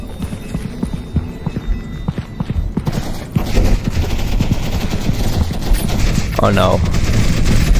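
Rapid bursts of turret gunfire in the video game Content Warning, fairly close and loud, with a steady hum in the background and a brief spoken reaction from a player.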